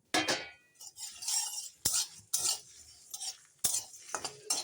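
Whole fennel, coriander and cumin seeds go into a pan for mango pickle, with repeated stirring scrapes and clinks of a spoon against the pan over a light sizzle, in several close, fairly loud bursts.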